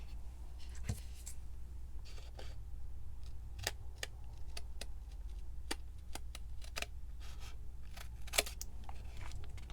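Scissors trimming a textured paper craft tag, giving a quiet series of short, crisp snips spaced irregularly over a low steady hum.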